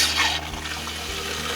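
Water runs steadily from the hot water faucet of a Winnebago Travato RV while the antifreeze is flushed out, a close, continuous splashing stream with a brighter gush at the start.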